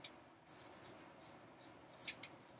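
A pen scratches out a short fraction on a board or paper during a decimals lesson, a few quick soft strokes in bursts, faint and close, with no talking.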